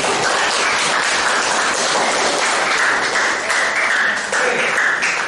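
Students in a classroom applaud a classmate, producing a dense, sustained burst of many hands clapping at once, loud and close, holding steady for several seconds.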